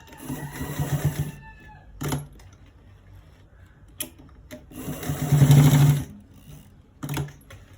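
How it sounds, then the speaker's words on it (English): A sewing machine stitches a V-neck seam in two bursts of rapid, even needle chatter a few seconds apart, with short clicks and handling knocks between them. "I'm stitching it from the top, from the first to the end part, from the first place to the end part."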